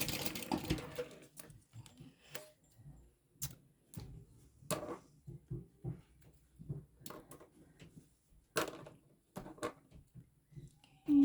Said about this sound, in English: I'm going to take this right sides together and just sew a little seam sewing it together